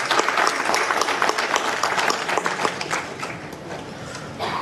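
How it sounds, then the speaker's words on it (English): A crowd at a student hackathon event claps for an honoured guest: loud, sustained applause from many hands that gradually thins and softens toward the end. "Give him a huge round of applause,"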